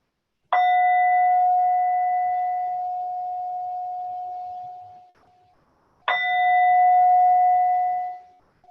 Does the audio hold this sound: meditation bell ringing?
yes